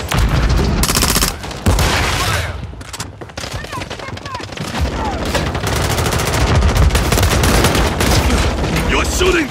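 Rapid automatic gunfire and bursts of shots from a Call of Duty Modern Warfare 3 multiplayer match, loud and nearly continuous, with game voice callouts mixed in.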